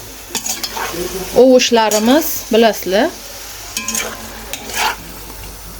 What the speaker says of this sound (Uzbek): qizil ko'p bolgarskiyimizni solamiz. Mana hammasini 1-2 qovuramiz endi